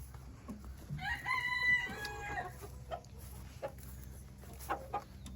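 Chickens cluck and a rooster crows in a coop as a shovel and swinging door disturb them, with several bursts of squawking calls over a low steady hum, fairly close and moderately loud.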